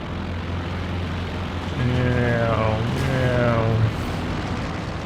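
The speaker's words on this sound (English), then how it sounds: "now we're going to have a lot of planes flying around" Propeller aircraft engines drone overhead in a Company of Heroes 2 multiplayer match, with a steady low rumble rising as a plane passes around the midpoint and another sweeps by shortly after, under battle ambience.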